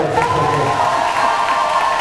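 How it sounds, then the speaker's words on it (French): An audience cheers and applauds a couple at a televised surprise event, a dense crowd roar with whoops and a high tonal shout over continuous clapping. "Est-ce qu'on peut les applaudir"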